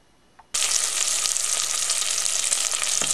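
Chunks of bacon dropped into a pan over medium heat burst into a loud, dense sizzle after a brief quiet moment, then crackle and spit steadily to the end.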